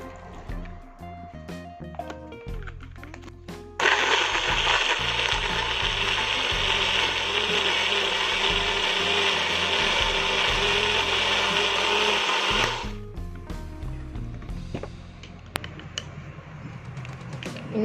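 A kitchen blender grinds spice paste for Acehnese beef bone soup. After several seconds of clattering, it roars loudly and steadily for about nine seconds, then cuts off, followed by more rattling and knocking.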